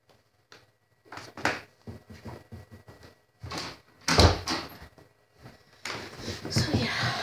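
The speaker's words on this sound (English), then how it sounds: "So yeah, I had to close my door there, sorry." A room door swings shut during a gaming session, a loud thud standing out among scattered bumps and handling noises, with quiet speech before and rustling after.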